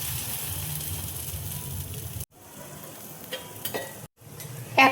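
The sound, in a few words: bread slice in batter frying in melted butter in pan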